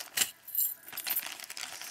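Small metal key-shaped craft charms jingle and clink inside a bag, a few light, brief rattles close by, with quiet handling noise between them.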